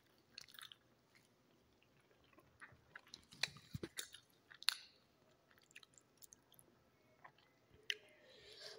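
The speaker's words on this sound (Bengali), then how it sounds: "রুটি দিয়ে সেমাই দিয়ে খাই।" Close, quiet chewing of roti eaten with semai, soft wet bites and mouth sounds in an irregular rhythm, with a few sharper clicks and rustles and no talk.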